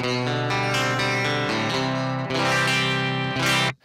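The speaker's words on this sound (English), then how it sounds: "This is just the sound of the raw amplifier now with no speaker sound." Raw guitar amplifier running through a Suhr Reactive Load with the speaker impulse responses bypassed: a loud, buzzy, fizzy distorted tone playing a run of sustained notes and chords, harsh and unfiltered, with no talking.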